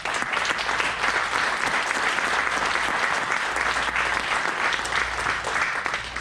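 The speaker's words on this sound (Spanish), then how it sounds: "Denle un aplauso al Rey." A church congregation gives sustained applause for the King during a Spanish-language sermon, a loud, dense, even roar of clapping that holds steady throughout with no speech.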